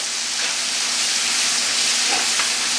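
Food for frijoles charros sizzles steadily in a hot pan, a loud continuous hiss and crackle with no talking.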